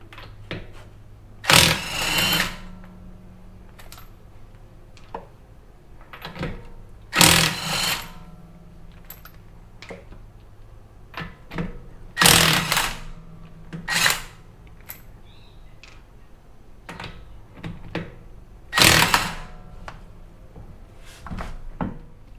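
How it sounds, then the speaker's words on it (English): Power tool spinning off the wheel nuts on a Mazda RX8, coming in about five short, loud whirring bursts with quiet pauses between them. "So we're going to start with getting the wheel off."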